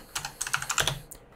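Rapid keystrokes on a computer keyboard, typed while installing a custom ROM on a Xiaomi Mi 8: a close, clear burst of about a dozen clicks in quick, uneven rhythm that stops near the end.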